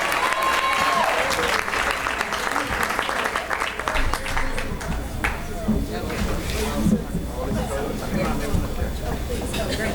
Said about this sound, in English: Y'all can cheer again if you want